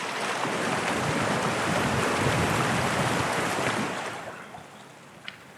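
A river's water rushes in a steady, dense broadband wash that fades sharply toward the end and leaves a quieter, thinner flow.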